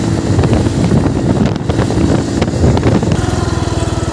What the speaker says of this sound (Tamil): சார்ஜ் போட்டு வண்டி ஸ்டார்ட் ஆகிடுச்சு கொஞ்சம் தூரம் போகுது